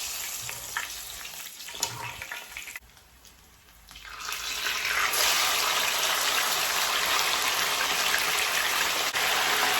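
Fish frying in a hot pan gives a steady, loud broadband sizzle, briefly quieter near the middle and then rising to a dense, continuous hiss that holds to the end.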